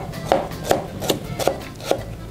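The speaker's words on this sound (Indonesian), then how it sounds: "Selanjutnya kita mau iris-iris bawang merah." A knife slices shallots on a cutting board in a home kitchen, five crisp, evenly spaced chops heard close up and alone, with quiet room tone between strokes.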